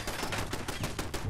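A turret in Fallout 4 fires a rapid, steady burst of gunshots at close range, the shots coming roughly ten per second with no pause for the whole short stretch.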